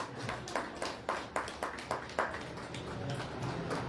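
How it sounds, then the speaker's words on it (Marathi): A small audience claps at a Jijau Brigade office-installation ceremony in Barshi, making faint, rhythmic bursts of applause that thin into scattered claps toward the end. "जोरदार टाळ्या झाल्या पाहिजेत"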